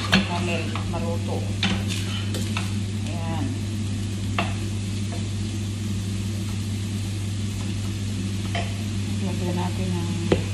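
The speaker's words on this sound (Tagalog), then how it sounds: "Habang ginigisa natin, patakan natin ng kunting asin para madaling ma-melt yung sibuyas." Onions sauté with a pinch of salt in a pan for butter chicken curry masala, a continuous sizzle broken by occasional clinks and scrapes of a utensil against the pan, under a steady low hum.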